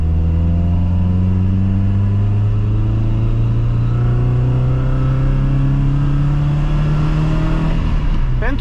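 BMW E21 with a fixed-timing engine and DISA flap, accelerating hard under load; a loud, steady engine drone with harmonics sweeping upward over about eight seconds, close and continuous with no talk.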